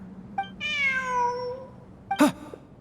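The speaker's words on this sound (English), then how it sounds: "Look! A cat!" A cat in the video game Genshin Impact gives a long, clear drawn-out meow, preceded by a brief chirp and followed by a short, sharper meow, heard alone against a quiet background.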